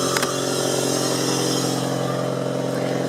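A Toyota TownAce Super Extra van engine fitted with a custom air intake runs steadily, giving a dense, buzzing drone at constant loudness with no noticeable revving.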